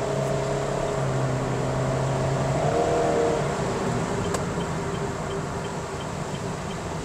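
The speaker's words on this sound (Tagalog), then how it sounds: "pag S mode, maingay talaga dahil high RPM siya" A 2024 Honda Brio RS engine running at high RPM in S mode, a loud, sustained drone from inside the cabin with a pitch that rises and then holds steady, no talk.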